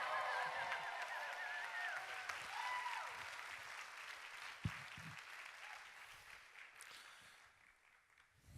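An audience applauds as a guest speaker is welcomed to the stage, with sustained clapping and some whoops and shouts, fairly faint overall, easing off toward the end.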